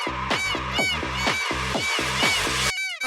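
Loud honking bird calls from a peacock in a Minecraft Bedrock add-on, repeated in a rapid run of about eight harsh, nasal blasts, followed by one higher trailing call.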